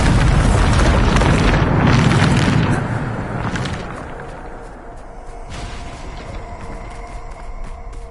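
A loud, booming blast from the Bombarda spell in Hogwarts Legacy, a dense roaring burst in the first seconds that fades into a lingering rumble with no speech.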